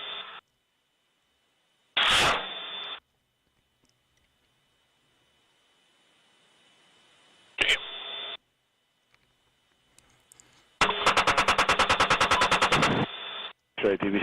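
A gun fires at a military engagement in sharp separate bursts: two short volleys several seconds apart, then a longer rapid stream of shots, with near silence between them.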